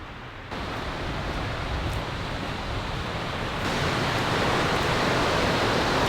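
Water rushing steadily over a small dam on a warm backcountry trail with many creek crossings and waterfalls, a dense continuous roar up close that swells louder partway through, with no voices.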